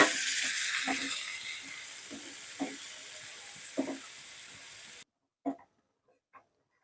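Fish roe curry with pepper powder and a splash of water sizzling and being stirred in a pan, a steady hiss with soft scraping strokes, then quieter with a couple of isolated clinks at the end.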